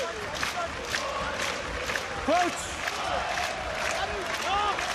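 A rugby stadium crowd at a URC semi-final between Leinster and the Bulls roars and cheers in a broad, steady wash of noise, with a commentator's voice briefly over it.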